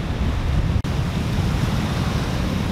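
Ocean waves washing up a sandy beach at low tide, a loud, continuous rush of surf and wind with a brief dropout near the start, no voices present.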